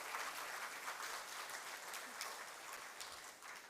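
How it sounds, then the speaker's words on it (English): An audience gives a warm round of applause for a guest speaker at a spiritual talk. The clapping is steady and sustained and sounds faint and distant, with no voices over it. "warm round of applause again for our guest"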